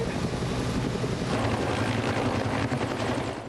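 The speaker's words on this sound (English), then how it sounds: "As the choppers strafed the bush for nearly an hour" Helicopters fly over a Blue Mountains bushfire, their rotors making a steady, loud, continuous thumping drone that fills the whole stretch with no voices.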